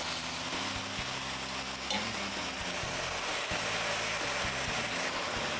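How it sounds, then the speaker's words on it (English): Steaks sear in a hot pan with a steady, close sizzle and faint scraping as they caramelize, continuous and moderately loud throughout, with no talking. "So now we have the seared steaks, caramelized on both sides in a hot pan."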